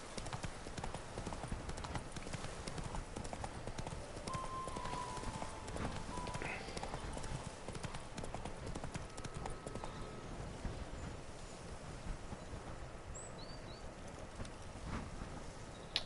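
Roach, a horse in the Witcher 3 video game, clip-clops steadily across a wooden bridge, hooves striking in a brisk even rhythm close by, with faint bird calls in the background.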